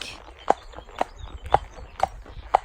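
A lone mare's hooves clip-clopping on a hard road during a solo hack, five crisp evenly spaced strikes about half a second apart, close and clear over quiet background.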